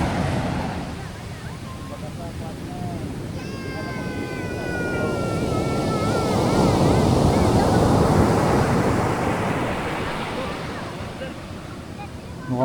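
Strong surf at Calabasa, Gabaldon, waves nearly as tall as a person: a loud, close, continuous roar that swells to a peak midway then eases, with heavy wind buffeting and a brief meow-like whine early on.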